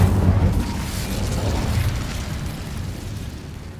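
An Incendio fire spell cast in Hogwarts Legacy lands as a heavy explosive boom and then rumbles off in a long, roaring, fiery tail that slowly fades, with no voices.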